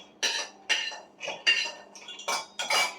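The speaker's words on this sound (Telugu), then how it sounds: "వేగించేసుకున్నాను కదండి వేరుశనగుళ్ళు, దాన్ని అయితే నేను మిక్సీ జార్లో వేసేసుకుంటున్నాను." Roasted peanuts are tipped into a steel mixer jar in about six quick rattling bursts, each a bright clatter of nuts against metal, close and fairly quiet.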